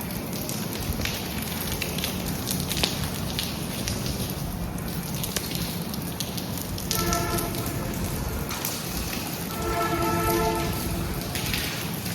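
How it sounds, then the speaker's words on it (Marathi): Rain patters steadily on surfaces at the Ellora caves in a dense, crackling hiss, with a couple of faint tonal sounds briefly rising above it. "पाऊस पडल्यामुळे"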